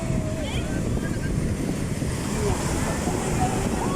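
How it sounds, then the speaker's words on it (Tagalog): Steady rushing surf and wind noise fill the clip, a continuous wash of waves on a black sand beach in Macau with faint voices in the background. "Alon!"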